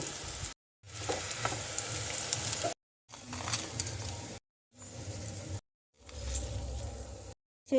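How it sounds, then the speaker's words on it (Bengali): Pieces of bitter gourd frying in hot mustard oil, a steady close sizzle broken into several bursts by short silences, with occasional stirring scrapes and no talk. "এরপর উচ্ছেগুলো ভালো করে ভেজে নেব"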